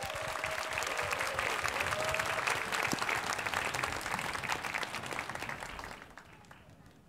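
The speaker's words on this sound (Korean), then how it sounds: "올라오실 때 큰 박수로 맞이해 주시기 바랍니다" A church audience at a Christmas festival in an auditorium gives a big round of applause as the pastor comes up, sustained clapping that fades out toward the end, with voices underneath.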